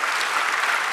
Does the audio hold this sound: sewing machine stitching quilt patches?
no